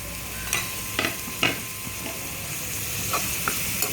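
Chopped onions sizzle steadily in a hot pan for prawn thokku while a utensil scrapes and stirs with several distinct clinks, close up and without voices.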